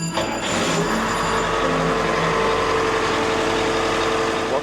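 A 1976 44-foot Thompson Trawler's boat engine in a harbor cranks with a brief starter whine, then settles into a steady, loud, low idle rumble that holds without pause.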